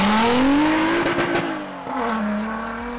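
A Lotus Exige Sport 350, a lightweight sports car, accelerates at full throttle with a loud, rising engine note that climbs, briefly dips on a gear change, then pulls hard again, heard up close with no talking.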